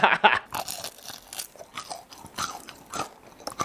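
Bites into double-fried, super crunchy Korean fried chicken, a few sharp crunches near and loud at the start, then a steady run of softer chewing crackles.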